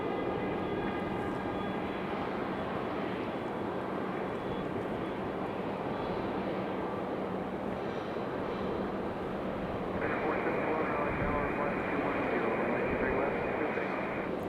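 An American Airlines airliner at Raleigh-Durham airport produces a steady engine roar with a whining tone, a higher pitched whine rising in after about ten seconds, while people talk faintly.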